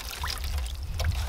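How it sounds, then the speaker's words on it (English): Water pours from a bucket over a mud-caked Sig Sauer P320 AXG Scorpion pistol outdoors in a field, a steady close splashing rush lasting the whole moment with no talk. "I'm gonna go ahead and rinse her off really good."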